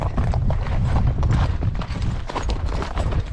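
Horse hooves clip-clop in a quick, steady rhythm as riders move along a rough trail, the footfalls close and continuous with a faint rustle around them.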